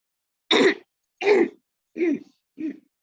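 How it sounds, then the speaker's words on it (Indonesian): Four separate coughs, spaced about half a second apart, close and fairly loud, each one a little weaker than the one before. "Maaf, saya batuk terus."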